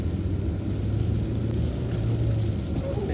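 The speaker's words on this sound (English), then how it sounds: "It does like to rev, this K-Series engine." A 2005 MG ZT 120+ with its K-Series petrol engine drives at night, giving a steady, close, low engine drone and road rumble heard from inside the cabin with no talk and no distinct rev climb.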